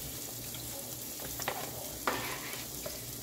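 Onion frying in hot oil for a gravy to go with bangers and mash, a soft steady sizzle with a few sharper clicks of stirring at moderate level, no talk.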